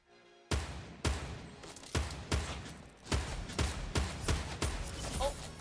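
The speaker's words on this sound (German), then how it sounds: "Auf mich wird geschossen, ich weiß auch von wo" Gunfire rings out in a Fortnite Battle Royale match, a series of about ten sharp, loud shots coming at irregular intervals, each with a short decaying tail.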